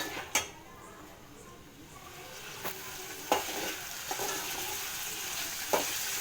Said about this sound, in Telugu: మొత్తం టమాటో వేసుకున్న తర్వాత ఇలా మొత్తం మళ్ళీ మిక్స్ చేయాలి